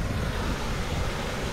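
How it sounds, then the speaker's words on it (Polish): Steady, dense roar of rushing water from a waterfall heard close by from a swan-shaped boat near Castel Sant'Angelo in Rome, broad and continuous, with no voices over it. "I jesteśmy pod wodospadem."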